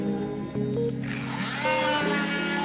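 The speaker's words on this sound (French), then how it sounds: "Ça, c'est la petite ponceuse." A small power sander whirs and buzzes up close, its pitch shifting as it works against a surface on a sailboat, with no voices.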